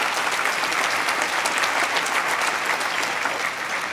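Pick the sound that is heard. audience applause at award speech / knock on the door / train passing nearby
audience applause at award speech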